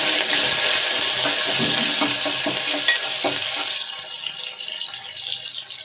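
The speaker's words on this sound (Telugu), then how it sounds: "ఇప్పుడు ఆనియన్స్ బాగా ఫ్రై చేసుకోవాలి." Onions frying in hot oil with cinnamon, cloves and mace for ghee rice, a steady close sizzle with occasional stirring clinks that eases slightly toward the end; no talking.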